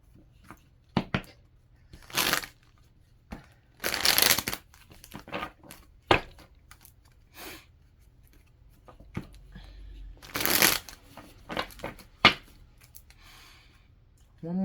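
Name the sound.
shuffling tarot cards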